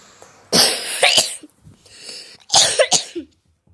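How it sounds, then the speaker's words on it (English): Several harsh, close coughs during a Roblox game session, in two bursts of rough barking hacks with a short quieter gap between them, and no talking. "Why am I coughing so much?"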